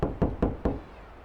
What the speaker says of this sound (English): Then I tried knocking.